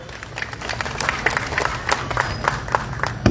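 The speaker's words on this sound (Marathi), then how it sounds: "सर्वांनी टाळ्या वाजवायच्या." An audience at a lecture-series felicitation gives steady applause, a dense patter of many hands clapping at moderate distance throughout.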